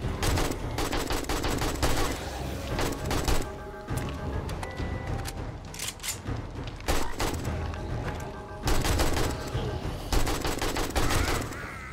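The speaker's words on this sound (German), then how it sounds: "Zwei Schuss, drei Schuss, vier Schuss, fünf Schuss." Heavy gunfire in the zombie survival game 7 Days to Die during a blood moon base defense, loud rapid bursts and repeated shots with booming impacts, broken by short pauses, over a dense game soundscape.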